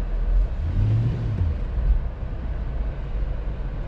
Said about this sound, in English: Like the idling is kind of off.